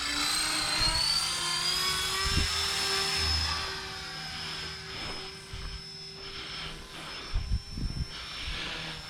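A Blade 330S radio-controlled helicopter flies nearby with a steady high electric whine and rotor buzz that shift slightly in pitch, along with a few low thumps and handling noises.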